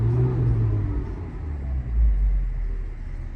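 A 2009 Mini Cooper engine revving, a loud, close, low rumble that swells and eases with no voices over it.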